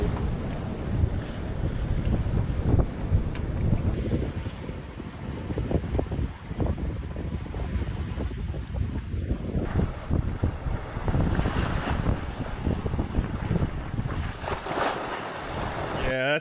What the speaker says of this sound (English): These waves are absolutely massive.